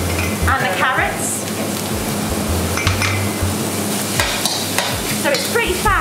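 Mushrooms, cabbage and carrots stir-fried in oil for vegetable spring rolls, a loud steady sizzle with repeated scraping and clattering of a utensil against the pan, close up, with faint speech at moments.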